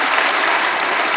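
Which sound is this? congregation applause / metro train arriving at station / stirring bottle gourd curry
congregation applause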